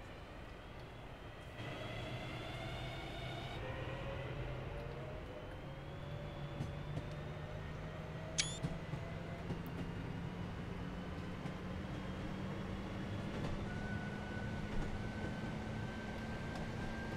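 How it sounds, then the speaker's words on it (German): A train rolls past on the Glossop Line between Manchester and Glossop in Train Sim World 3, a quiet, continuous rumble with rising and falling whining tones and a single brief, sharp click partway through. "Natürlich erst, wenn so der Zug dran komplett vorbei ist, was jetzt der Fall ist."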